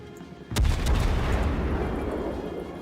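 A heavy cruiser's naval guns fire at an enemy ship in World of Warships, one sudden booming blast with a deep rolling rumble that fades slowly over the next two seconds.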